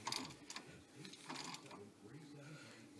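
A hand tool is ratcheted and tightened on the front suspension of a 1999–2004 Jeep Grand Cherokee to press out a ball joint, giving faint close metallic clicks and creaks in a quiet workshop.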